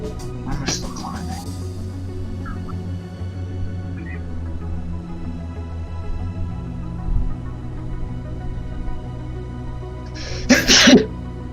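A man lets out a single sharp sneeze near the end, close and loud against a steady low hum inside an aircraft, with brief faint sounds before it.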